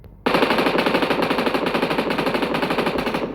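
An M249 light machine gun fired in PUBG Mobile from a prone position lets loose a loud, sustained automatic burst, with rapid evenly spaced shots rattling steadily for about three seconds after an abrupt start.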